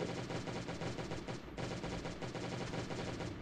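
An automated turret fires at the player in the survival game Last Day On Earth: Survival inside a bunker: rapid, continuous machine-gun bursts, quiet in level but dense and unbroken, with a brief pause midway.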